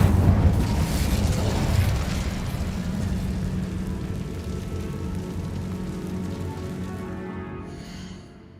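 Incendio fire spell bursting in Hogwarts Legacy, a loud roaring blast of flame that rumbles on for several seconds and gradually fades out, with no talking over it.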